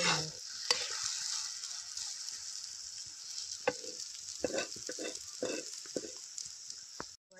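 Onions stir-fried in a pan for a spicy Konkan village-style egg curry give a steady, close sizzle, broken by repeated scraping stir strokes, with no talk.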